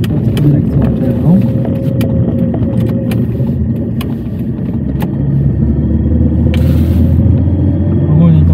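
Lada 2107 car driving through town, its engine a steady low rumble filling the cabin while people talk over it.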